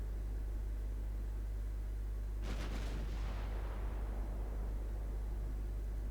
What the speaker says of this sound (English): I had no idea my 3-inch secondaries had that great range.